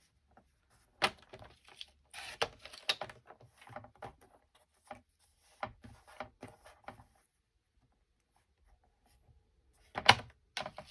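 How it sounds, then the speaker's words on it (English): Paper trimmer slicing paper for an envelope, with dry scraping and sliding strokes in irregular bursts, a pause, then a sharp close cut and a few more scrapes. "So I'm going to use my paper trimmer for this."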